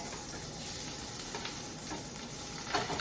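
A tablespoon of butter melts and sizzles in olive oil in a pan, a steady close frying hiss with faint crackles and no voices.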